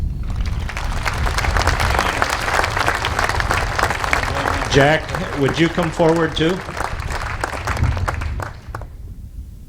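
Rodeo audience applauding steadily at an event honoring Jack Fettig, dense clapping with someone speaking over it midway, then fading out at the end.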